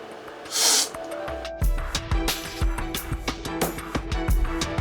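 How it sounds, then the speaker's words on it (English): Hard, loud slurps of coffee during a cupping, sprayed to the back of the mouth; a sharp hiss near the start, then a run of quick uneven sucking bursts and clinks. "You're going to really slurp the coffee and you're going to try to spray it into the back part of your mouth"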